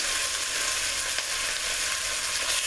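Oxtails brown in a hot pot for a Jamaican-style recipe, giving a steady, even sizzle and crackle of frying meat with occasional small pops, close and continuous with no talk.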